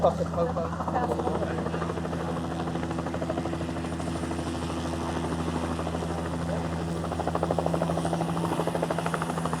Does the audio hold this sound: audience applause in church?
no